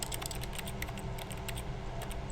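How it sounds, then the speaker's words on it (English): Rapid mouse or keyboard clicks sound while someone plays The Stanley Parable, a steady run of sharp, close taps over low background hum, with no talk. "I don't know what it is that me clicking is doing,"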